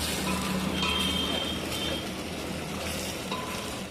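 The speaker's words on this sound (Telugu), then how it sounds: "అల్లం వేసుకొని కలుపుకోవాలి చూసిరిగా మా అన్న కలుపుతున్నాడు" Ginger is stirred into chicken curry in a pot over heat, making a steady, close sizzle with soft scraping movements and no voices.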